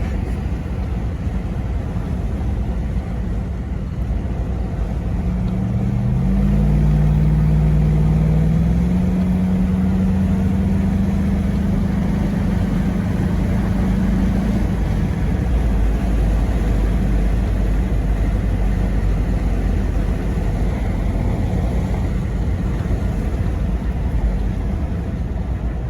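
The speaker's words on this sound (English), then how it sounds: "Here's a short little video driving down the road on the freeway." Steady engine drone and road noise inside a 1987 Toyota FJ60 truck with a swapped Vortec engine cruising on the freeway, a constant low hum with a brief deeper tone partway through, no talking.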